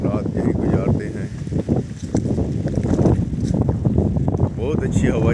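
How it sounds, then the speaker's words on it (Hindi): Wind blowing through a Punjab village in February, a steady broad rush buffeting the microphone close up, continuous and fairly loud throughout with gusty swells. "बहुत अच्छी हवा चल रही है"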